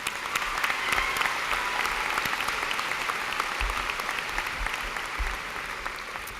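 Applause for graduating seniors at the 2016 Central Square graduation ceremony, a sustained dense clapping from a large seated audience, steady and moderately loud across the whole stretch.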